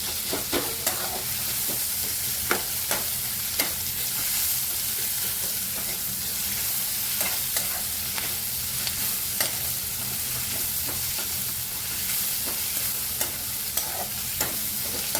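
Sliced onion stir-fries in a pan for egg fried rice. A steady, moderate sizzle hisses throughout, broken by frequent sharp scrapes and taps of a spatula stirring against the pan, with no speech.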